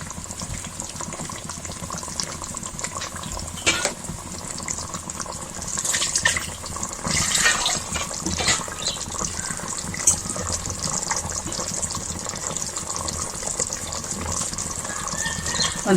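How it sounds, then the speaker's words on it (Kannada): Water pours steadily into a pot of chicken curry in a pressure cooker, a continuous close splashing gush that swells briefly midway, with no voices. "ಒಂದು ಕಪ್ಪು ನೀರು ಹಾಕ್ತಾ ಇದ್ದೀನಿ"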